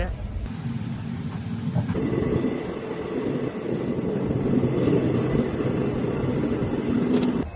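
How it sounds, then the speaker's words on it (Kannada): The Mysore–Pandharpur Gol Gumbaz Express pulls away, a continuous low rumble and rattle of rail wagons heard from on board, steady throughout with a brief hiss near the start. "ಈಗ ನೋಡ್ರಿ ಟ್ರೈನ್ ಬಿಟ್ಟೈತಿ."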